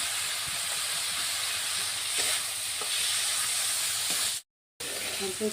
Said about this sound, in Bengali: ভালো করে ভেজে নিতে হবে।